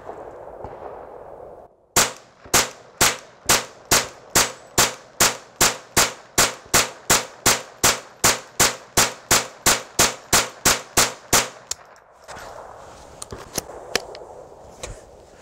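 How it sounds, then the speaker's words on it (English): A Marlin 795 semi-automatic rifle emptying a 25-round extended magazine, about twenty evenly spaced loud sharp cracks fired in quick rhythm over roughly ten seconds, with outdoor quiet before and after. "we're gonna do one more 25-round magazine dump here"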